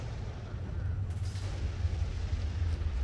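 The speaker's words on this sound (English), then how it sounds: "He loves tossing those grenades." Grenade explosions in the video game S.T.A.L.K.E.R. Misery, heavy low rumbling booms that roll on continuously throughout, fairly loud and dense, with no talking over them.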